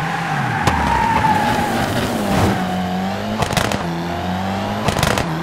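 Rally car in the WRC 2 FIA World Rally Championship video game sliding through a handbrake hairpin, steady engine drone with shifting pitch, tire skids and sharp transient clicks, no talk.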